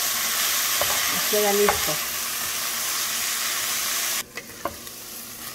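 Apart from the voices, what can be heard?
onion frying in a pan with shrimp and vegetables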